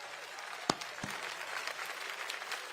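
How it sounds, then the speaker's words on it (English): Audience at an outdoor Korean War Veterans Memorial dedication ceremony claps in a soft, scattered round of applause heard at a moderate distance, with a couple of sharper nearby claps standing out early. "How about a round of applause for Pershing's Own over there?"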